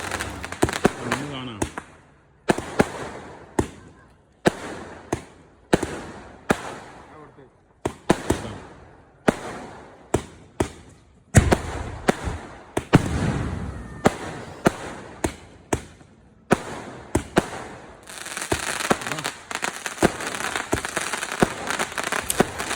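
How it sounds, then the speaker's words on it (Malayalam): Festival fireworks display bursting in a rapid series of sharp bangs and crackles, some near and loud, others thinner, with a dense crackling stretch near the end and voices talking between the blasts. "വെടിക്കെട്ട് ഒരു രക്ഷയില്ല."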